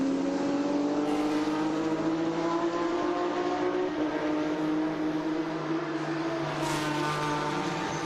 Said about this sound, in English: John Boyette's in a 2019 Porsche GT3 Cup car, 4-liter.